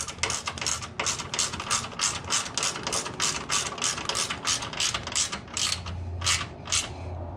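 A hand ratchet snugging up small 10mm bolts on a Gator 590i net, a close, rapid run of sharp clicking pawl strokes in steady rhythm, pausing briefly near the end, with no speech.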